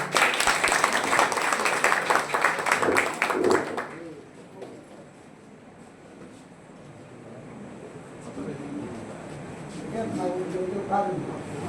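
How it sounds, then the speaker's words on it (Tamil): Applause from an audience at a Diwali festival event held by an association, loud and dense clapping for the first four seconds, then fading into quieter room noise with voices and some later murmur. "ஒரு பெரிய கைத்தட்டல் கொடுத்துடலாம்"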